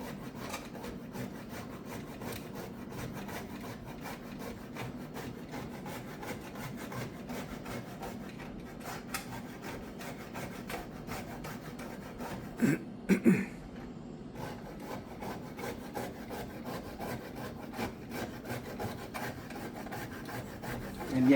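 Whole nutmeg is grated in a kitchen, giving a steady, fine rasping scrape that repeats in quick strokes, close and fairly faint, with a brief cough or throat clearing partway through.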